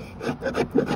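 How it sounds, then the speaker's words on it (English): A sharp chisel scrapes Seadek rubber decking off a boat surface, giving repeated rasping strokes at close range, about four pulses in a second, with no talking. "So then you take a razor and this is a chisel, sharp chisel, and just get it up as much as you can."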